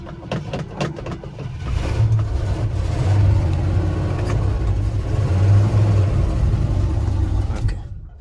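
Ford F-100 engine, left sitting for years, cranks and catches, then runs with a rough, rising rumble that holds loudly for several seconds before cutting off; no talking.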